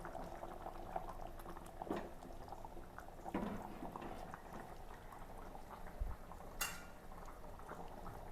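Kanambu fish curry bubbling in a pot, a steady, soft boil with scattered pops and gurgles, fairly quiet and continuous throughout.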